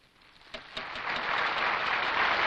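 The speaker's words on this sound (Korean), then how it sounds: "청중들의 열광적인 박수가 터져나왔습니다" Enthusiastic audience applause breaks out as an orchestral symphonic poem ends on the national anthem melody. It starts with a few scattered claps, then swells into dense, steady clapping that fills the hall.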